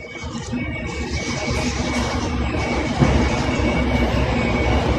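A train rumbles past loudly and close, with a continuous heavy roar and a faint clatter of wheels that builds slightly toward the end.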